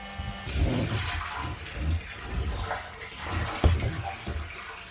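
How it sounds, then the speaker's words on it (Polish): A Parkside PRPA 20-Li A1 20V cordless water pump runs as water gushes and splashes, the flow surging unevenly in bursts and gurgles, close and fairly loud. "zobaczcie jak wyłączę, i włączę, to, to tutaj woda leci"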